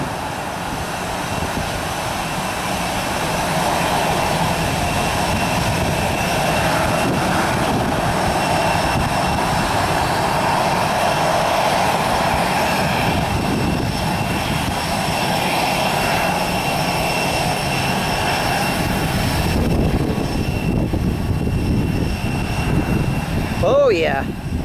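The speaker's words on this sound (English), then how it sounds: "jet blast." Jet blast from an airplane at Springfield airport, a loud, continuous broadband roar and rumble that holds steady throughout, with a shift in tone near the end.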